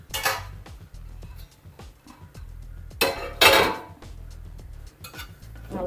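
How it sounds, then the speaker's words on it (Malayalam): A spoon stirs cooked rice in a pot over very low heat, giving close scraping and clinking against the metal in uneven bursts, with no talking. "ഇളക്കി നോക്കാം ആദ്യമേ"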